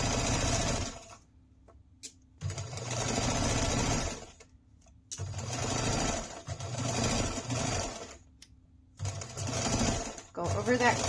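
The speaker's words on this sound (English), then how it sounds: "we're going to just stitch all of those layers together around the top edge, just at a 1/4 of an inch" Layers of a water bottle sling pass through a sewing machine in three long stitching runs, each a steady close motor whir separated by brief pauses with light handling sounds.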